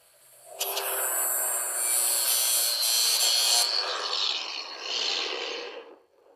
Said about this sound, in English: A quick cut with the grinder, we unlock it.